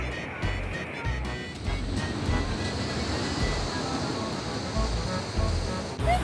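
Sea waves wash onto the beach at Caister-on-Sea, a steady broadband surf roar with gentle swells and some wind, fairly close and continuous with no talking.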